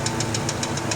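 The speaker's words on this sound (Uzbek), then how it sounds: "Mana shu varang-varangni yo'qotib beramiz" Chevrolet Cobalt engine idling with a fault, producing an even, rapid metallic rattling knock that repeats steadily, close and loud over a constant engine hum.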